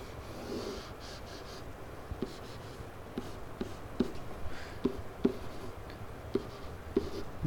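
Pen or marker scratching across paper while a geometry diagram of a bisected angle is drawn by hand, with quiet irregular strokes and taps spread through the stretch, no talking.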